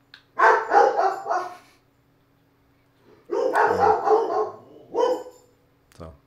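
Several dogs bark in short loud bursts, a cluster at the start, then another run of barks and a final yip after a pause.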